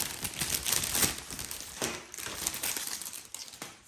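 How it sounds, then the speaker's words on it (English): Sturdy plastic wrapping around a diamond painting kit crinkles and crackles in dense, irregular bursts for the whole stretch, loud and close with no talking. "It comes in a very sturdy plastic wrapping. Sorry for the crinkling."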